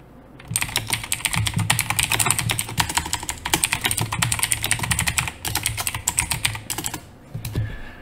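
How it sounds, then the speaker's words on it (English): Loud computer keyboard typed on quickly, dense close keystroke clatter in continuous bursts that thin out near the end, with no voices. "I'm sorry if my keyboard is super loud."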